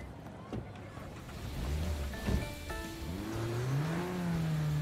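A car is driven in the video game Cyberpunk 2077, its engine rising in pitch as it accelerates, with a steady rumble and a brief clunk midway.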